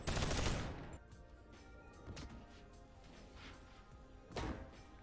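Pistol gunfire in the VR game BONELAB: a loud opening shot burst, then two more sharp reports spaced apart, near and punchy against a quiet background.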